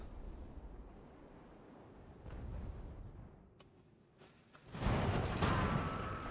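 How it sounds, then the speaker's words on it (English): Shore battery artillery in the naval strategy game Ultimate Admiral: Age of Sail fires in the distance, first as low rumbling booms, then as a louder blast that swells near the end over a steady ambient wash. "the shore battery can still fire at the Rye"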